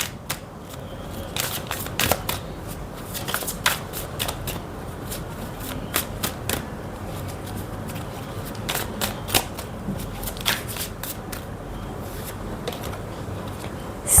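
Beast Soul Oracle cards are shuffled close up in repeated bursts of crisp riffling and slapping, with short pauses between them over a quiet background.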